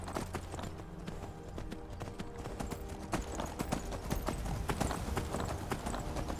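Horse hooves clip-clop steadily up a steep incline in Skyrim, a close, regular rhythm of hoof strikes continuing throughout with no voices.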